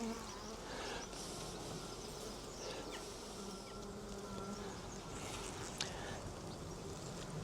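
Honeybees in an open hive drone in a steady, dense buzz throughout, close and continuous, with no talking over it.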